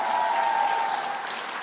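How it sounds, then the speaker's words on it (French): A church congregation applauds during a Sunday baptism service, a steady, dense wash of clapping that holds evenly throughout the short stretch without any voices standing out. "On peut l'applaudir."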